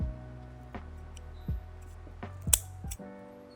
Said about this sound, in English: I'm gonna cut this broken piece free